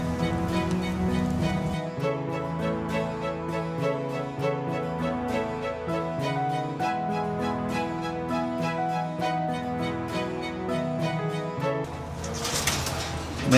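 Racing pigeons, including a Drapa cross bred from a Skywalker line, coo steadily and close by under a dense, continuous layer of background sound, with a louder rustle near the end.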